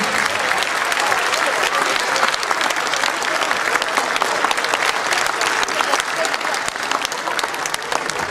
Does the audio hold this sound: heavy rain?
no